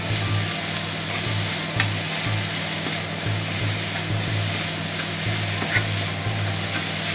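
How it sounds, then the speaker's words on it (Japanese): Sausages stir-frying in a pan seasoned with black pepper and salt, a continuous loud sizzle with occasional scraping stirs, close up and without speech. "よく炒めますね。"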